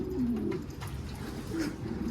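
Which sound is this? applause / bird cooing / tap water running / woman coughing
bird cooing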